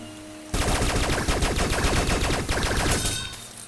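Rapid bursts of video game gunfire aimed at the player, loud and continuous for about two and a half seconds after a quiet start, then easing off into a low background.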